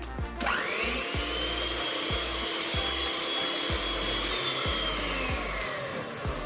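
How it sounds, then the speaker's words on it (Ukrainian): Electric mixer beating eggs in a bowl for a sponge cake, a loud continuous whirring motor with a faint rhythmic tapping of beaters against the bowl, close up. "Спочатку ми робимо бісквіт для нашого тортика. Збиваємо яйця."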